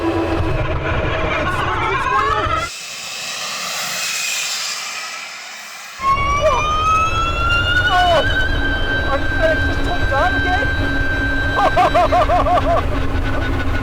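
A 1,000-horsepower hypercar launches at full throttle on a damp drag strip with a high-pitched rising whine and roar, broken by a muffled stretch before the engine note climbs again, with talk over parts of it.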